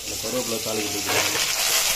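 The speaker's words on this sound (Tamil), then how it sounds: "கருவேப்பிலை தாளிப்பு ஊற்றிக்கலாம்." Hot oil tempering with curry leaves is poured into a pot of pumpkin sambar, bursting into a loud, close, rising sizzle and hiss that fills the short moment.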